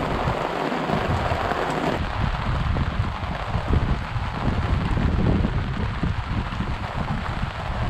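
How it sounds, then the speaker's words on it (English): Heavy rain pours down steadily at a marina, a dense, continuous hiss and patter on surfaces with occasional rumbling, loud and unbroken throughout with no voices. "man oh man, is it bucketing down outside"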